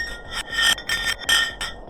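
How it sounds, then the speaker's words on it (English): A block of ice dropping down a deep borehole in Antarctic ice gives off a string of bright, ringing, glassy pulses, about six bursts in quick rhythmic succession, each with a high metallic chime, fairly loud and with no voices. "The pitches changed over the quick descent of the block of ice, ranging from high pitch and ending with a low heartbeat-like sound."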